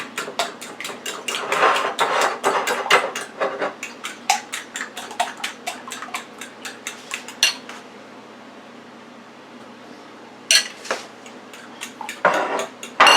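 Three cracked eggs beaten in a bowl with a utensil for a jalapeno steak omelette, giving a rhythmic run of light clinks and taps, a quiet pause, then a few more bursts of clinking with no talk.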